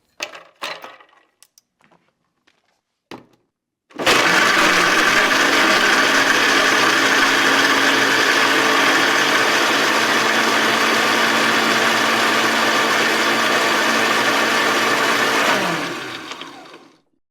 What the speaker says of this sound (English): It's a blender. It's definitely a blender.